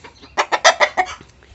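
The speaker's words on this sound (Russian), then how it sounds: "Петухи запели мои." Leghorn roosters call out in a quick burst of five loud, rhythmic clucking notes, close by with little else around.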